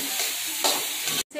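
Spices are stirred into parwal and potato sabji in a pan: a short, close burst of sizzling with a scraping stir midway, ending in a brief dropout.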